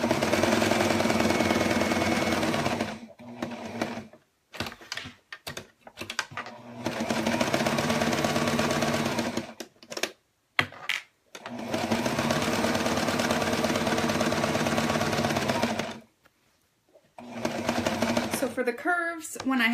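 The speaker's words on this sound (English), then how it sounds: "when I sew, I just barely am just rotating like this, and my machine does a lot of the work actually" Sewing machine stitching a crossbody messenger bag, a steady loud motor whir running in long stretches, broken by short pauses and brief stop-start bursts, close up.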